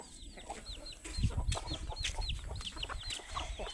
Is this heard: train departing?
no